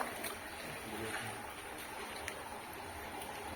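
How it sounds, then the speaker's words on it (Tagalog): Water drains and trickles out of a catfish pond on a small farm in Cabanatuan, a faint, steady wash of flowing water with a few light splashes and no break across the moment. "Nanakalag tubig."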